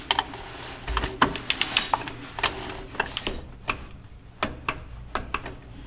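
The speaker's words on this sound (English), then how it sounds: "to tighten this, we're going to use 17 foot-pounds with a torque wrench" A torque wrench ratchets as it tightens the oil drain plug on a Porsche 981 Cayman S to 17 foot-pounds, giving a close series of sharp metallic ticks and clicks in uneven bursts.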